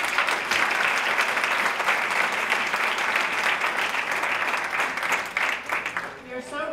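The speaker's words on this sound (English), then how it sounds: "So let's give them another round of applause." An audience at an ESL graduation ceremony claps steadily for faculty, a full, continuous round of applause that thins out toward the end.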